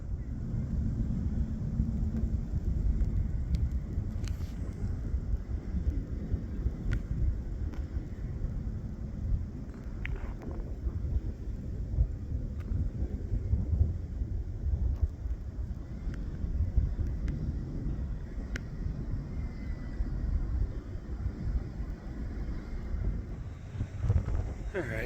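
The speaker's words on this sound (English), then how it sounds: "Starting to lighten up a bit, but it's still pretty windy." Strong wind during a lake effect snowstorm in Valparaiso, Indiana, a steady low roar with gusty buffeting on the microphone that carries on for the whole stretch, with no talk heard.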